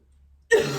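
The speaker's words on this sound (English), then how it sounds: "Sorry, I've got an awful cough." A single short cough bursts out after half a second of near silence, close and fairly loud, then trails off briefly.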